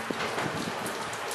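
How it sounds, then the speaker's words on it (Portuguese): Steady rain falls on a hot day at an outdoor swimming pool, a continuous close hiss of drops on water and surfaces with no voices over the 1.4 seconds. "Está na piscina com a prima Juliane, chovendo, mas está um dia muito quente."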